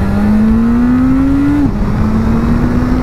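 A Suzuki Bandit motorcycle accelerates hard at full throttle, its engine note climbing steadily and loudly, then briefly dipping at a gear change before it pulls again under constant wind roar.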